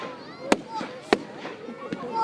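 Fireworks explode on bonfire night in three sharp, separate bangs a little over half a second apart, with a softer pop between them, over a low background murmur of voices.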